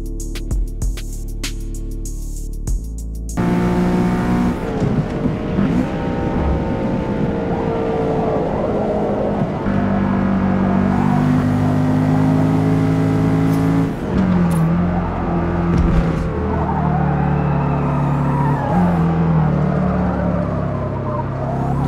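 A Porsche engine in the Forza Motorsport racing game drones loudly and steadily, and its pitch rises and falls as the gears change slowly. The sound stays continuous and close, opening after a brief choppy start, with no speech over it.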